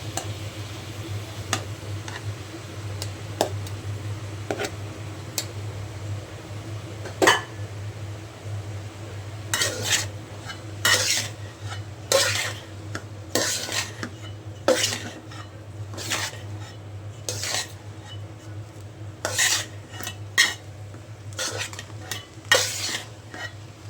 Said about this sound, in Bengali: এবার রান্না করা ভাত আমি এর মধ্যে দিয়ে একসাথে মিক্স করে নেব।